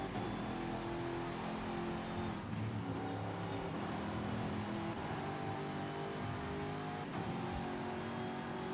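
A car engine revs hard after an early downshift, with a steady, loud drone and pitch that rises and falls over several seconds. No one speaks.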